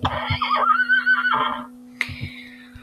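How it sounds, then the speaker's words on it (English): A single horse gives a loud, close neigh lasting over a second, then a shorter second whinny after a brief pause, with a steady hum underneath. "I don't want a horse that does acrobatics. I want a horse that runs."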